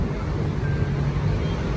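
Wind gusting across the Manila Bay dolomite beach, a steady broadband rush with low rumbling buffets on the microphone, fairly loud and continuous with no voices.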